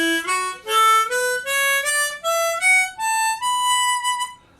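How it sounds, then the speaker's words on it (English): Seven harmonica notes step upward from hole 1 to hole 7 on a diatonic harp in Easy Third tuning, forming an even, rising major scale that ends on a held note. "So therefore when I play the same deal, starting at hole 1 and say going to hole 7, it sounds like this."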